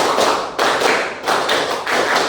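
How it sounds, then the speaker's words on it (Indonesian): A standing group in a classroom ice-breaking game claps four-count bursts, several loud, dense rounds of hand claps in a steady rhythm with brief dips in between. "Tepuk 4 2 kali."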